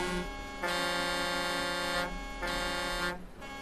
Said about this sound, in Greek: Αυτή είναι κόρνα